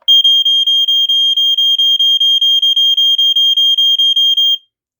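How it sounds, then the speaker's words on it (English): An Amway Amgard Statitrol E-8444 smoke detector sounds a loud, steady run of rapid high-pitched beeps for about four and a half seconds, slightly uneven in spacing, with battery terminals showing corrosion. "So do one more test for you."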